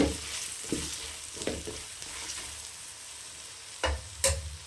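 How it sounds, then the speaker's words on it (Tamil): A ground paste of roasted chili and coriander fries in oil for a mutton fry, a continuous soft sizzle broken by a few louder stirring scrapes toward the end. "வறுத்து அரைச்சி வச்ச அந்த மிளகா கொத்தமல்லியை நம்ம இந்த எண்ணெயிலே சேர்த்துக்கலாம்"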